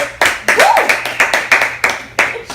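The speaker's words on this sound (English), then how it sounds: "Come on, we got to clap for that." Audience clapping in bursts of rhythmic claps at a seminar-style event, loud and close, with a voice speaking over it.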